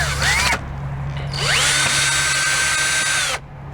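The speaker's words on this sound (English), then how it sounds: "hopefully these didn't get too crooked with the drilling." A cordless power drill drives screws for mounting solar lights, giving two loud whining bursts: a short spin-up, a pause, then a longer sustained whir that rises in pitch and cuts off abruptly.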